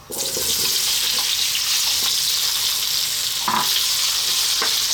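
Raw potato pieces fry in a hot pan for a potato mushroom curry, giving a loud, steady sizzle that runs the whole time with a few sharp utensil clinks and no voices.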